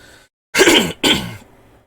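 A person clears their throat in two quick rasping bursts, close and fairly loud, with no talking around it.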